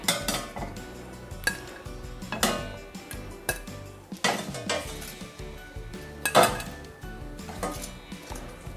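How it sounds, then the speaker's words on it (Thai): Pieces of pork belly laid into a cooking pot for a braise with pickled mustard greens, giving a run of close metallic clinks and clatters at uneven intervals, with no talk. "เอาหมูสามชั้นนะคะ วางเรียงในหม้อเลย"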